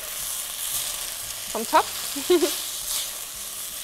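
Red wine reducing in a frying pan for a vegan vegetable ragout, a soft steady sizzle running under brief bits of speech.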